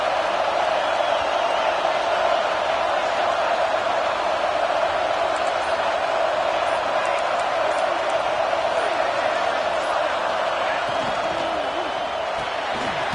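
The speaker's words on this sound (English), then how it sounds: "And the crowd coming to life here, trying to help this defense down in the red zone." Steady stadium crowd roar from a football video game, a dense continuous wash of noise held at an even, loud level throughout with occasional swells, as the home crowd rises during a red-zone defensive stand.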